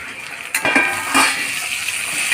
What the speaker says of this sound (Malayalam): ആവശ്യമുള്ള ഉപ്പ്, ഉള്ളി നിറം മാറി വരുമ്പോൾ തക്കാളി ഇടുക.